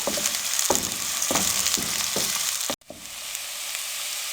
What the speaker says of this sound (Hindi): प्याजों को हम हल्का सा फ्राई कर लेंगे